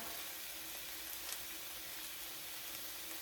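Shrimp searing in a hot pan, a steady soft sizzle holding evenly throughout, quiet and uninterrupted, with no voices.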